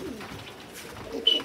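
A copper hen pigeon in a basket gives soft, low cooing, quiet and close, in a short run of breathy murmurs.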